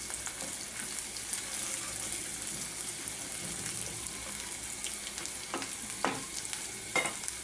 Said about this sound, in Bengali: এখন দিয়ে পেঁয়াজ আর রসুন, পেঁয়াজ রসুনটা আমি একটু বাদামি কালার করে নেব।